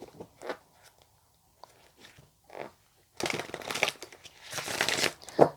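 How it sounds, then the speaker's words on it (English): A deck of tarot cards is shuffled by hand, starting with a few faint, scattered rustles, then breaking into louder bursts of riffling and card slaps over the last couple of seconds. No one speaks. "If I can actually shuffle the deck properly."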